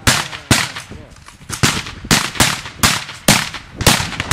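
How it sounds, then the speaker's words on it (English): Rapid gunfire from a cadet force training exercise at Culford School, about nine sharp close shots at irregular intervals, each with a short echoing tail, with faint voices between bursts. "If you still got rounds, keep firing."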